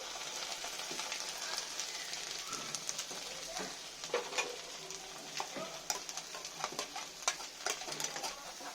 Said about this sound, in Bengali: এবারে ভালো করে এই মশলার সাথে আমি ভালো করে একটু নেড়ে নেব অনেকক্ষণ ধরে